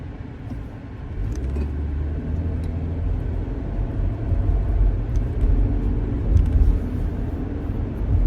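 A car drives along a road with a 45 mph limit, its steady engine and tyre rumble loud and continuous throughout, with no talk.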